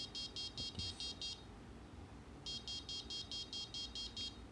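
An electronic buzzer triggered by an ultrasonic sensor beeps rapidly in two short bursts of high, evenly spaced tones, fairly faint over a low background hiss.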